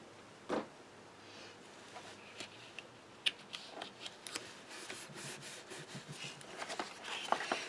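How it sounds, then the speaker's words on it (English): Tape is slowly peeled away from a paper card, heard as faint, close rustling and scratchy tearing sounds, with small paper taps and crinkles scattered through an otherwise quiet stretch. "And then take the tape off this side."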